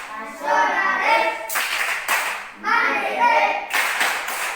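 Children clap in a steady rhythm for the Tepuk PPK chant in a classroom, sharp bursts of hand claps coming in quick groups with short pauses between them, up close and loud. Children's voices also seem to chant along.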